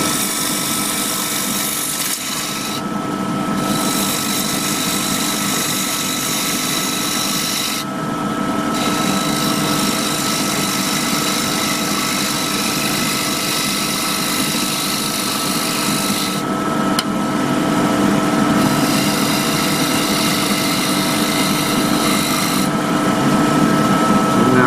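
Gouge cutting a wooden table lamp base spinning on a lathe, a loud continuous rasping hiss over the steady motor hum, with brief pauses as the tool lifts off the wood, no talk.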